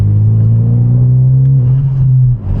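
A loud, deep turbocharged 300-horsepower coupe engine idling and rumbling close by, steady with a low droning tone that dips briefly at the end.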